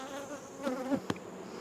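Honey bees buzzing close by in a beekeeping yard, a wavering drone with a couple of individual bees passing near the microphone over a quiet background.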